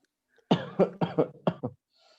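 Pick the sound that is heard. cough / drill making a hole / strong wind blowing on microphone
cough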